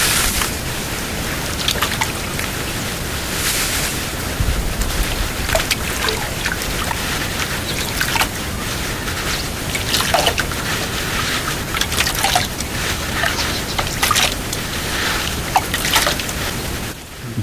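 Salt being stirred into a container of water for an egg-floating seed test, a steady wet swishing and trickling with scattered sharp clicks and splashes continuing throughout, fairly close and without talk.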